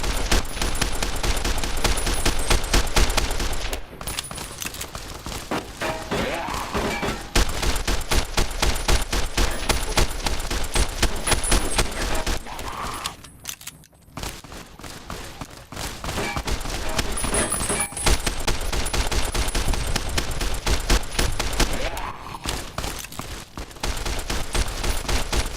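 Sustained gunfire fills a Fallout New Vegas fight, rapid automatic bursts and overlapping shots going almost nonstop at high volume, with one brief lull in the middle before the barrage resumes.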